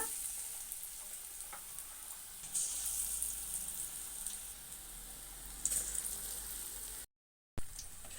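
Vegetable bondas deep-frying in hot oil give a soft, continuous bubbling sizzle with gentle stirring swells, quiet and steady, cut by a brief silent gap near the end.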